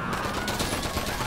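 Dense, continuous gunfire from weapons in the video game GTA 5, a rapid automatic volley of shots blurring together at steady loudness throughout.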